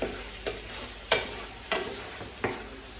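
A spoon stirs vegan chilli garlic chicken around a hot pan, giving four or five short scraping strokes spaced about half a second apart over a soft, steady sizzle.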